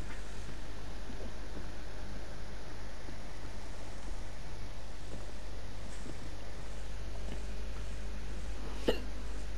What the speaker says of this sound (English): Oh, and hiccups.